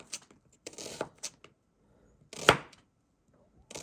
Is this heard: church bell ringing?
no